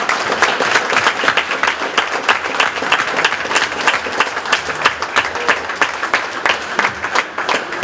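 Steady, strong applause from the audience at a nursing home fete, with distinct claps forming a brisk, continuous patter that lasts throughout.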